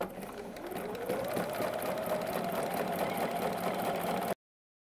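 A sewing machine stitches steadily while quilting a cushion along a ruler, its motor a continuous mid-pitched running hum with a faint rapid needle rhythm, close and alone for about four seconds.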